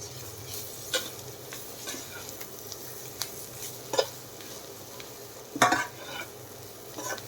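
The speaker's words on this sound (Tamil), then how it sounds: "இப்போ கட் பண்ணி வச்ச அவரைக்காயை சேர்த்துக்கலாம்" Chopped broad beans (avarakkai) being stir-fried in a pan, a soft steady sizzle punctuated by several sharp scrapes and clacks of a spatula against the metal.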